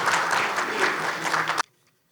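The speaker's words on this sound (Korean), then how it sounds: "우리 이부영 위원장님 큰 박수로 맞아주시길 부탁드립니다" An audience at a founding convention claps steadily to welcome the preparatory committee chairman, a dense even burst that cuts off abruptly near the end, leaving quiet room tone.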